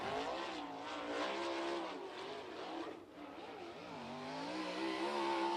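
A USAC sprint car on the Ocala race track accelerates hard onto the front straightaway, its engine snarling loudly and steadily with a rising pitch that dips briefly near the middle before climbing again.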